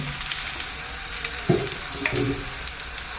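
Roti fries in about a cup of hot oil, a close, continuous sizzle and hiss with a couple of louder bursts of crackling, no voices.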